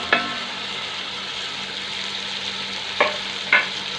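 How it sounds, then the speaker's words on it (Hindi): Chicken sizzles steadily in hot oil with tomatoes, green chillies, ginger and garlic for biryani, a continuous close frying hiss punctuated by three sharp scrapes of a stirring utensil against the pot. "अब हम इसमें डालेंगे टमाटर, हरी मिर्च, अदरक, लहसुन वगैरह। तो इसको थोड़ा सा भूनेंगे।"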